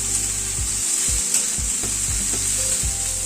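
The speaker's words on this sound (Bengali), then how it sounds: "বিনসটা দিয়ে আবার একটুখানি নাড়াচাড়া করে নিচ্ছি" Carrots and chopped beans fry in a pan with a constant bright sizzle, broken by regular scraping stirs about every half second, close and fairly loud, with no talking.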